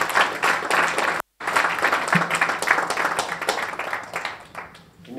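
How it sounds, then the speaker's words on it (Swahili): Sustained audience applause for the guest of honour at an event against human trafficking, dense clapping close by with a brief dropout, fading toward the end as talk begins. "Makofi mengi tena kwa mheshimiwa"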